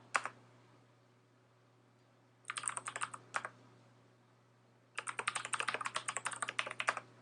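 Someone types an fmsadmin backup command on a computer keyboard, giving close, rapid key clicks in two bursts with a short pause between them over a faint steady hum.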